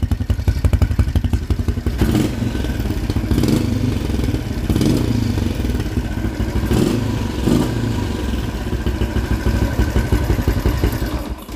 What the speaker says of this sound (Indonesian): Cuma exhaust dia ni macam bunyi bocor tau.